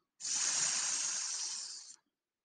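A person's voice imitates a snake's hiss for the letter S, a single steady, loud sustained hissing breath lasting nearly two seconds, close and alone.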